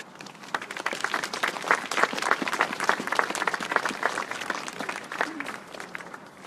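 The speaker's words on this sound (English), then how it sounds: "I think we should have a round of applause for these young people." An audience at a hospice's outdoor Christmas light switch-on event applauds the young performers, giving steady, dense clapping for several seconds with faint crowd murmur beneath.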